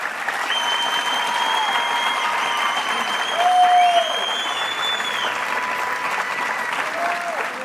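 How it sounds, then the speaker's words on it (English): Steady, loud audience applause for students at a high school senior awards ceremony, with whistles and cheers rising over the clapping throughout. "Let's give these students a round of applause."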